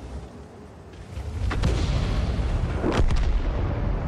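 Tank cannon fire in a World of Tanks–style battle game, with a couple of heavy booming shots over a steady low rumble of engine and battlefield noise, no talk.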